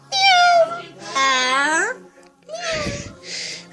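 A talking pet bird imitates cat meows, giving four close, clear, drawn-out meow-like calls in quick succession with short pauses between them.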